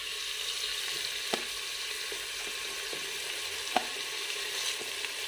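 Rice added to a pan while cooking khichdi, giving a steady soft sizzle and frying hiss with a few faint clinks of stirring, quiet and continuous.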